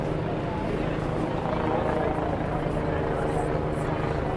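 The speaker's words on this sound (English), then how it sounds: "Police helicopter in the sky." A steady low rotor drone of a police helicopter flying overhead at Horse Guards hangs over the whole clip, constant and fairly close, with faint voices mixed in underneath.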